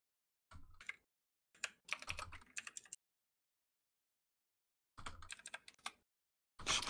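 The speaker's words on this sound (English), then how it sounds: "You guys are both typing mics on. It's like tick tick tick." Bursts of rapid clicky typing on a computer keyboard picked up by an open microphone during an online tabletop roleplaying session, several short flurries separated by silent gaps, close and crisp with no talking.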